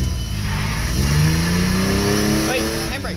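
A ute's engine revs as it pulls away, a rising mid-pitched drone that climbs steadily and stays close and loud, with voices talking over it.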